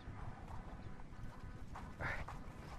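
Horse hooves clip-clopping in a Western-style confrontation, a steady uneven patter of steps blended with background noise and a brief sharper scuff near the end, no speech heard.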